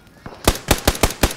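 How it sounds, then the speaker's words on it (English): Several sharp gunshots from a shooter in a dome in a first-person shooter video game, coming in a fast rhythm of five or six loud cracks after a quieter start. "He's shooting out of that dome."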